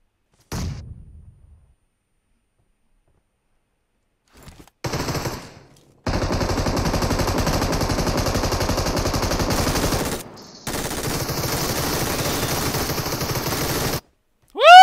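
Automatic gunfire rattles in long sustained bursts during a battle royale video game, a brief shot up front, then loud continuous firing broken by short pauses near the end.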